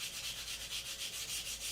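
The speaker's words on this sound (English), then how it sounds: "So just spend time sanding these." Steady back-and-forth rasping of sandpaper rubbed by hand over wood filler on a model rocket, in a quick even rhythm of short strokes, quiet and close.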